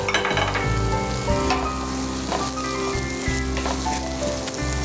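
Sliced shallots fry in hot oil with a dense, continuous sizzle and crackle, stirring scrapes and clatters breaking through now and then, close and loud throughout.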